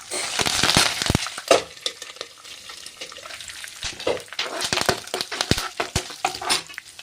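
Curry leaves and dry red chillies hit hot oil in a tempering for puliyogare, giving close, crackling sizzles with sharp pops and clinks of stirring in the pan.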